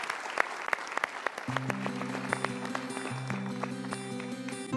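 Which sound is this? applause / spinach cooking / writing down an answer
applause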